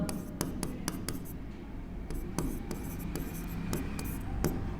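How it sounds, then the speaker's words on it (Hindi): Writing on a board in a maths lesson on Euclid's division algorithm gives sharp, irregular taps and scratches of the writing tool, close up and fairly steady, over a dull room hum. "तो यहां लिखेंगे यूक्लिड विभाजन एल्गोरिथम।"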